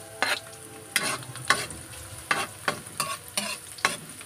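Garlic frying in a pan for a Filipino sinigang dish, with steady sizzling broken by about eight sharp scraping stir strokes at a roughly even rhythm, close and fairly loud, with no talking.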